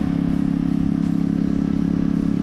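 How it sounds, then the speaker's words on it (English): A restored custom Keeway CR152 motorcycle idles loudly nearby, its exhaust a steady, throaty rumble with a fast, lumpy pulse that holds without revving. "It's still very loud with that exhaust."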